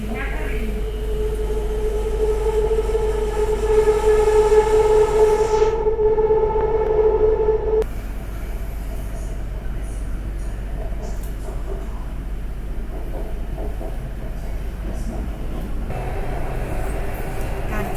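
A Bangkok BTS Skytrain Green Line train hums and whines steadily as it runs, with a rising motor tone early on, and a voice speaks over the rolling noise.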